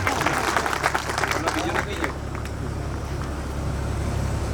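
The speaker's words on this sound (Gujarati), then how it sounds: "તાળી પાડો, બીજું શું જોઈએ?" An audience claps at an award ceremony honouring students and community members, a burst of dense applause for about two seconds that fades into a low room hum with people talking.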